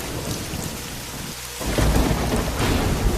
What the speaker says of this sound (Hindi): बरसात की एक अंधेरी रात थी। आसमान में बिजली चमक रही थी,